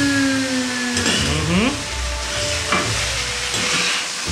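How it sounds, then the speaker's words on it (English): Japanese fried rice with chicken stock is stirred in a hot pan, a steady close sizzle with scraping strokes of the utensil, while someone talks over it. "Okay, I'm going to mix it all together."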